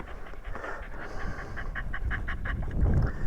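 Tilly, a pet dog, pants in quick, steady rhythmic breaths close by, with faint outdoor background noise and no talking.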